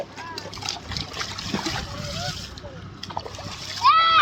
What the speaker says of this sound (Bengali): ওই ওই জল দিস না ওই জল দিস না কানে যাবে